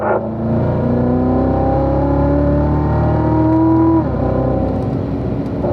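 A race car engine on a track drones loud and close, its pitch climbing steadily before dropping at an upshift and building again, a sustained throaty roar throughout.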